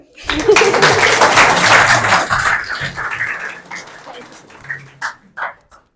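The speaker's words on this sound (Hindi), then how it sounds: "ताली तो बजा दो यार" Students in a school session in Bagla Mandi, Himachal Pradesh break into a burst of loud group clapping that fades after about two seconds, leaving scattered voices and a few last claps.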